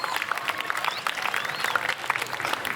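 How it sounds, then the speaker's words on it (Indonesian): A crowd claps for Baleganjur performers at a parade in Denpasar, a dense, steady wash of hand claps with occasional voices mixed in, sustained and fairly close throughout. "Jadi tepuk tangan untuk para pemain Bleganjur kita."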